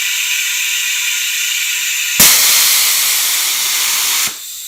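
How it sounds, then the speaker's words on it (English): The pressure relief valve on a sealed automotive fluid extractor pops off with a sudden sharp release, followed by about two seconds of loud, steady hissing that cuts off abruptly back to a quieter background. "I'm pretty sure it's going to pop off the security valve right now."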